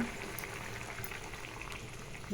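Thick Bengali curry gravy of mustard, poppy seed and chilli paste simmering in a pot on a gas stove, a steady close bubbling and popping that runs without a break, with no talk.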